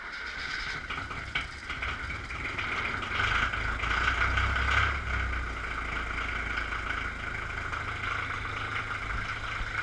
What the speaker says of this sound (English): we'll videotape cold starting of the Ford tractor